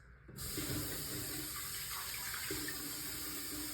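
A sink tap runs steadily while someone washes their hands, a continuous close hiss of flowing water after a brief quiet start.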